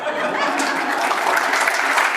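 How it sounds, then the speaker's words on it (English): Dinner audience applauding during a keynote speech by a senator, a continuous even patter of many hands clapping with a faint chuckle, heard alone for its full length. "You applaud"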